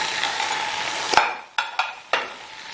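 Chicken shashlik cooking in a dry pan with no added oil, a steady sizzle broken by a sharp clatter and then several brief scraping stirs and knocks of a utensil against the pan.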